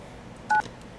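A single short telephone keypad tone from the video game Kentucky Route Zero, one clean electronic dual-pitch beep heard alone against faint background hiss.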